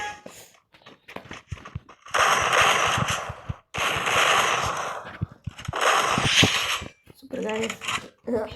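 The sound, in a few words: gunfire in the video game Free Fire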